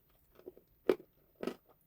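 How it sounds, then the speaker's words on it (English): Someone munches crunchy food close to the microphone: a few sharp, separate crunching bites with soft chewing between them in an otherwise quiet room. "I'll be munching away a little bit here, so it's going to be a bit noisy."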